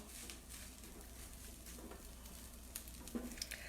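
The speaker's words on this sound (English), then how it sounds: "You hear some sizzle, but I'm going to want to get a little bit more." Rice sizzles faintly in a lightly oiled hot pan while bibimbap is cooked at home, a steady low crackle and hiss throughout with a few small pops near the end.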